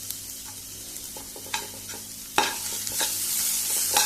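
Mushrooms with tomato and pepper frying in a pan with little oil, a continuous close sizzle punctuated by several sharp spatula stirs and scrapes, growing louder toward the end, no voices.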